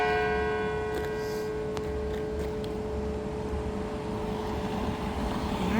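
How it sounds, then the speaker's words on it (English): Church bells ring faintly in the distance, a few struck tones sounding over a steady low rumble of engine or traffic noise. "Catching the bells."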